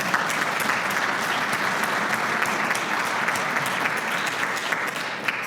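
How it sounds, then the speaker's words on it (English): Nature center volunteers get a full round of applause at their 50-year celebration, a dense, even clapping sustained at moderate loudness throughout. "Give yourselves a round of applause"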